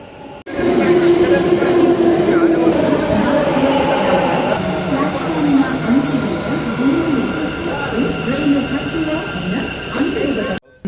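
A metro train in Bengaluru rolls in with a loud rumbling hum and rising, wavering motor whine, wheels squealing briefly, continuous throughout.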